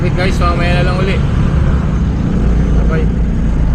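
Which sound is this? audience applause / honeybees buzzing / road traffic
road traffic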